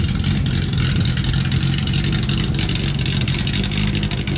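Loud, close exhaust roar from a Mercedes 300 SL race version shown at the Monaco Yacht Show, a sustained deep engine drone with no break across the whole stretch.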